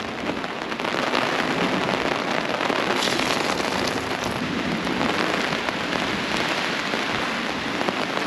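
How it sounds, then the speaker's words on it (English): Heavy rain pours steadily and loudly, a dense continuous hiss of drops pounding a surface with no voices. "you give her hell, rain"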